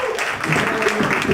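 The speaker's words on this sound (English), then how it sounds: "give me a round of applause for putting my shirt back on" Brief applause from a comedy show audience on Long Island, a dense patter of clapping heard under a speaking voice.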